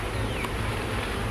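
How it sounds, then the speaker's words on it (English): Honey bees buzzing at close range during a hive inspection, a steady droning hum that fills the whole brief moment with no talk. "Come on, bees, get out the way."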